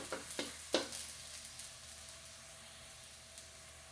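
Garlic frying in a small amount of oil for beef broccoli gives a steady, soft sizzle, with a few sharp clatters of stirring near the start that then settle into a continuous quiet crackle.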